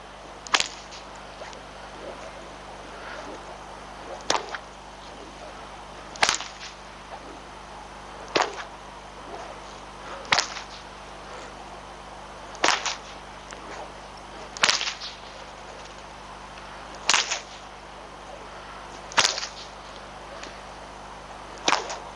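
A whip cracked repeatedly at roughly two-second intervals, each sharp, loud crack standing alone over a steady low outdoor background hum, about ten cracks in all.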